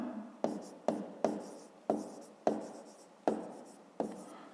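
Numbers being handwritten for a fifth-grade maths exercise: seven crisp pen-on-paper strokes in an even, steady rhythm, close and clear with no talking.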